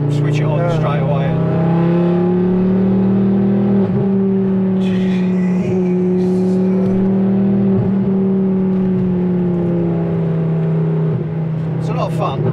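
A Ford Focus ST engine runs close by with a loud, steady drone that rises and falls in several revs, and people can be heard talking over it.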